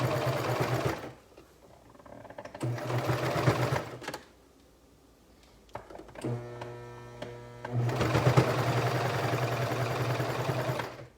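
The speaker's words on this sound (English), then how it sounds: "the great thing about this cover stitch is it not only hems it, but because of that looper, it also is like finishing the raw edge of the fabric" A cover stitch sewing machine hems a cardigan, folded under one inch, running in several loud bursts with a steady motor whir and stitch rhythm, separated by quiet pauses.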